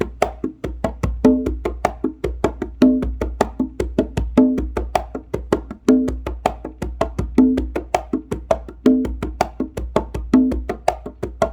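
A single conga drum plays a steady, repeating touch-open pattern of slaps and open tones, close and loud, cycling about every one and a half seconds without pause.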